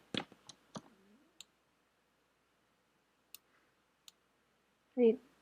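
Computer mouse buttons clicked while working in Photopea, a quick cluster of sharp clicks at the start, then two lone isolated clicks, with a brief burst of speech at the end.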